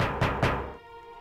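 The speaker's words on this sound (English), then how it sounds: "Somebody's at the cell door." Two quick, solid knocks sound on a cell door in the game Valkyria Chronicles II. The knocks are close and distinct and are followed by a quieter tonal backdrop.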